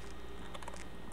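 Computer keyboard typed on briefly at a terminal while installing Docker on Ubuntu, giving a quick cluster of soft, close keystrokes over low background hiss.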